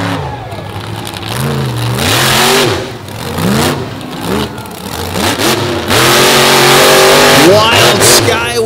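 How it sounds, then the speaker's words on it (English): A Ford Super Duty monster truck engine revs loudly at a beach monster truck show, rising and falling in repeated surges. A commentator talks over it the whole time. "as Steven Sims goes to work in what is left of what started the weekend as a beautiful Ford Super Duty"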